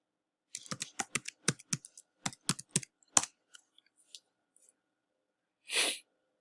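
Someone types a password on a computer keyboard: a quick run of crisp, close key clicks in an uneven rhythm, then a short pause and one final stroke.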